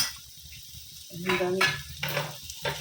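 Spices with onion and garlic sizzle softly in a pan for a vegetable curry, with a few stirring scrapes of a utensil against the pan and a brief spoken word.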